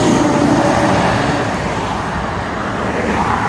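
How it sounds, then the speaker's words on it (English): A heavy truck rolls past on a road near a driveway, a loud continuous broadband roar of engine and tire noise that swells slightly and then eases. "With a truck like this, he couldn't stop now if there was something in the way."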